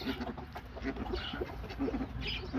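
A bird in mating season screeches and squawks in repeated harsh calls over a constant noisy background, fairly close, with no clear speech.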